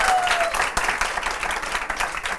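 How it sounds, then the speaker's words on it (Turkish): Studio audience applause on a Turkish late-night talk show, dense and lively clapping throughout with a few sharper individual claps standing out. "Alkışlıyoruz efendim."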